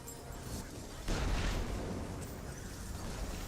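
Exploding floor attacks hit in an online role-playing video game, with a sudden loud burst about a second in that rolls into a sustained noisy rumble under steady background noise.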